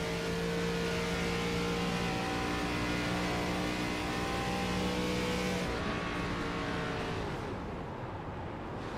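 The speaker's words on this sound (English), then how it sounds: "you hear him shutting that car off" Stock car in the ARCA Series race on iRacing, engine droning at high speed with steady harmonic tones, then the pitch drops and the roar thins as the driver lifts off the throttle to save fuel late in the race.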